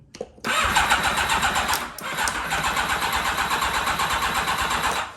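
A Kawasaki Ninja ZX7R motorcycle with a no-crank, no-start fault cranks briefly and then catches, settling into a steady, close running engine with a short dip partway through.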